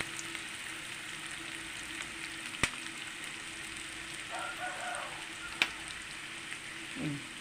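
Onions frying in a pan with a steady, soft sizzle and crackle, broken by a couple of sharp clicks and a brief scrape of stirring near the end.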